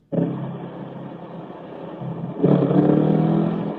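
A car with a homemade custom exhaust revs close by, a deep throaty engine roar that holds steady and then surges louder in a second, stronger rev partway through.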